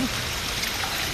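Sea water rushes in from big waves, a loud, dense, continuous wash of churning water that fills the whole short moment.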